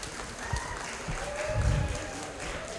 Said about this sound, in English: Can we get a round of applause for Joanna?